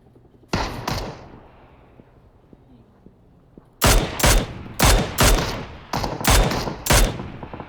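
Gunfire in a shooter video game: two sharp shots, a quiet pause with faint mechanical clicks, then a run of six or seven loud, evenly spaced reports close by.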